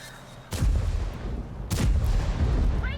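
Two heavy tank cannon blasts from an IS-7 in World of Tanks, about a second apart, each a sharp broadband boom with a rumbling tail, over a low continuous engine drone.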